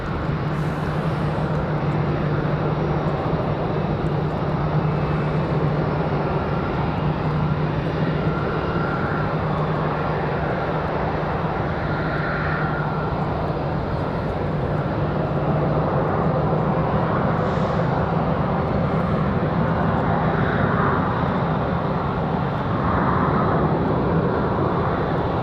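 A United airliner departs Raleigh Durham airport at night, its steady broadband jet roar filling the air continuously and fairly loud, with a low engine hum underneath and no voices.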